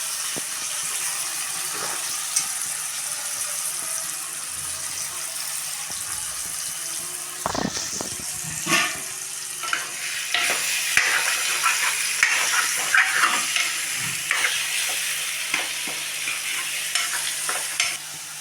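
Onions, green chilies and tomatoes for egg curry sizzle steadily in a pan as a spoon stirs and scrapes through them in irregular bursts, the frying close and continuous.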